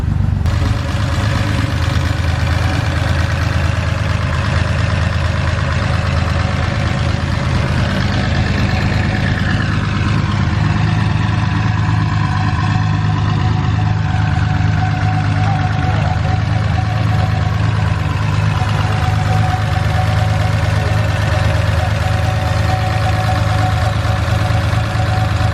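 A Datsun 280Z fitted with an EFR turbo engine idles steadily and loudly, a continuous close-up low rumble with a slight knock that holds throughout, with no talk over it.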